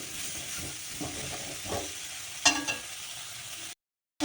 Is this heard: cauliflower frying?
yes